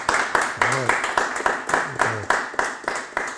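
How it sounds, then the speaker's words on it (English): Applause closing a historical society talk on a narrow gauge railroad, a run of rhythmic claps from a small audience with voices and laughter mixed in. "Thunderous applause there."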